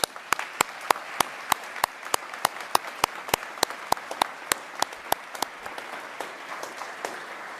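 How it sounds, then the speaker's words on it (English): Audience applause at a 2019 Pentagon disability awards ceremony, heard as a sparse crowd whose clapping carries sharp, evenly spaced individual claps standing out over a soft continuous patter, slowly thinning toward the end. "Can we please give them another round of applause?"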